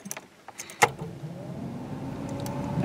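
A third-generation Camaro's 305 TPI engine cranks and catches on a cold start, a sharp burst giving way to a steady, fairly loud idle that holds to the end with no talking.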